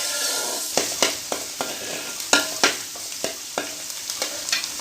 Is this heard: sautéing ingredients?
yes